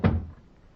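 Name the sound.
door being closed, old-time radio sound effect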